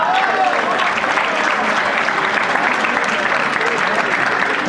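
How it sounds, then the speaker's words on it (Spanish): Festival concert crowd applauding loudly and continuously, a thick, steady roar of many hands with crowd noise, near and sustained the whole time, with voices faintly audible underneath. "Fuerte el aplauso, ¿no?"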